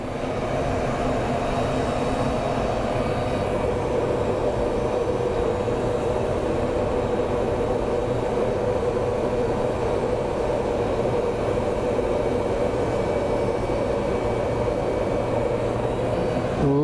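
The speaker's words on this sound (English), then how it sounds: "That is a FedEx Boeing 777 coming in." A FedEx Boeing 777 approaching to land at Phoenix Sky Harbor airport gives a steady, loud jet roar with no breaks across the whole stretch, with no voices over it.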